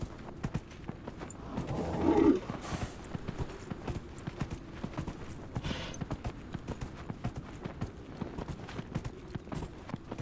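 A horse trots steadily in the game Dragon Age Inquisition, its hooves clip-clopping in a brisk, even rhythm close by, with a brief louder swell of game sound early on.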